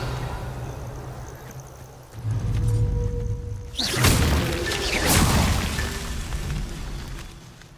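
The Revelio spell is cast in Hogwarts Legacy: a low ambient hum swells into a sharp whoosh, then a rolling, booming pulse that lingers loudly before settling.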